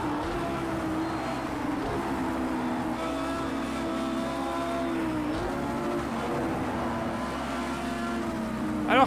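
A race car in Project CARS 2 accelerating, its engine holding a sustained, slowly climbing tone with a brief dip midway before building again.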